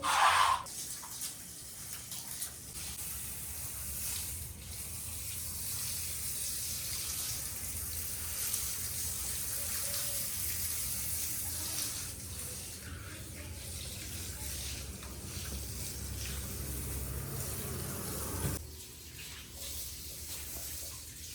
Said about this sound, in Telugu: ఈరోజు సర్ఫ్ నీళ్ళు వేసి చేయడం స్టార్ట్ చేసినాము